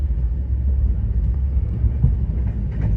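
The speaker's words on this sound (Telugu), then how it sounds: "బ్రేక్ వేసారు, తగ్గుద్ది ఇప్పుడు." Inside the Pune Kanyakumari Express in Kerala, the train brakes and slows, giving a low, steady rumble and faint rail noise, heard up close from the coach without talk.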